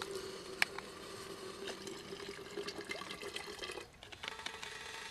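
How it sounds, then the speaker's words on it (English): Water poured into a pot to be boiled on an outdoor folding firebox stove, flowing as a steady moderate stream for about four seconds before tapering off, followed by a few faint clinks. "I'm going to go ahead and add a little bit more water because I want to make some cocoa as well"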